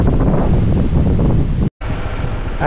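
Strong wind roars through banana plants on a farm, a dense, rumbling rush that buffets the microphone continuously, broken by a brief cut before the gusting resumes just as loudly.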